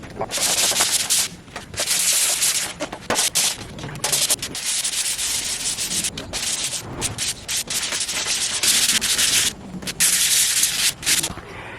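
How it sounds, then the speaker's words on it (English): Rhythmic hand sanding of an old, crusty Toyota AE86 dashboard, rough scratchy strokes rubbing back and forth in quick repeated bursts, close up and fairly loud. "time to sand it by hand"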